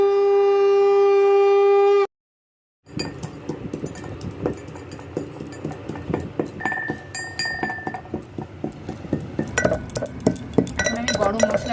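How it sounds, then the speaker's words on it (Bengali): Garam masala spices being pounded for a Kojagori Lakshmi Puja bhog, heard as rapid close clinking and knocking strikes of metal or stone, irregular and continuous, after a steady tone that cuts to a brief silence. "আমি গরম মশলা কুটছি।"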